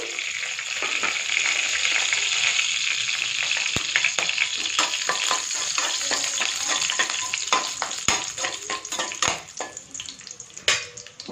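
Cashews, cinnamon, cardamom and cloves frying in hot oil in a pan for capsicum rice, a steady bright sizzle with scattered crackles and pops throughout, close and continuous.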